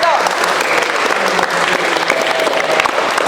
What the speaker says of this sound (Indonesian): Kasih aplaus kepada Ridho.